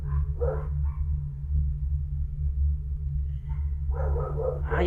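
A dog barks a few scattered times in the background, short yelping bursts at the start and a longer run near the end, over a constant low droning hum in a Spanish-language horror game playthrough.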